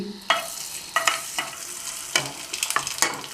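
Sago (sabudana) papad frying in hot oil, sharp bursts of crackling sizzle as each piece hits the oil and puffs up, several distinct hisses spaced across a few seconds, close and clear.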